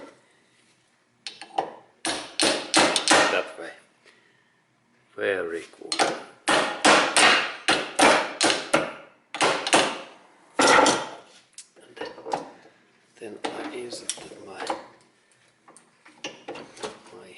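Repeated sharp metallic hammer strikes on a hinge part of a BMW rear trunk door fill rapid close clusters separated by short gaps. Someone talks briefly.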